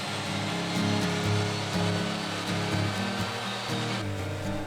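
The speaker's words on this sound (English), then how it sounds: "I'm making that cut on the table saw with a sled to make sure it's a good joint" A table saw fitted with a sled cuts through wood for a joint in a small workshop, giving a steady high whine with a few pulsing surges as the blade bites, fairly close and alone.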